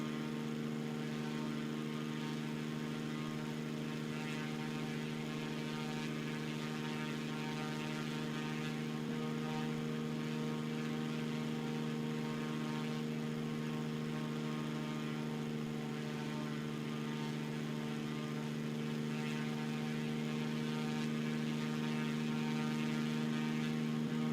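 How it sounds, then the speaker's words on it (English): A group of propeller planes flies over in Microsoft Flight Simulator 2024, a steady, droning tonal hum that holds at even loudness throughout, with no talking. "If they can't hear the planes, the big group of planes coming over"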